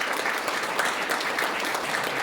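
A crowd gathered for a junior police academy event applauds the police chief, a steady, moderately loud patter of many hands clapping.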